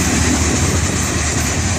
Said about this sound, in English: It's just a big, large rock train.